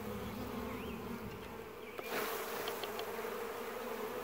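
Honey bees shaken from a frame of a weak laying-worker hive with drone brood make a steady, close, dense buzzing drone, with a few brief higher whines flickering above it.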